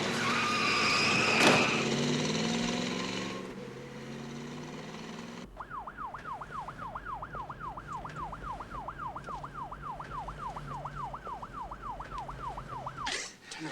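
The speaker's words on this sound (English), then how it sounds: "Turn on the siren." After a few seconds of voices and a sharp bang, a wailing siren starts, its pitch rising and falling steadily and quickly over a low engine rumble.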